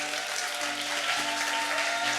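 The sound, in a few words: audience applause welcoming a lecturer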